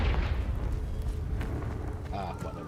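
A Confringo spell explosion in a Harry Potter-style video game lands as a low rumbling boom amid combat noise, with a voice speaking over it and a brief bright chime near the end.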